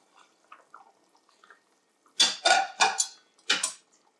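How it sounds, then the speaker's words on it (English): Broccoli dropped into a pot of homemade chicken vegetable soup makes a quick run of four or five splashy, clattering bursts, close and fairly loud after a near-quiet stretch of faint kitchen clinks. "I'm gonna add here the broccoli."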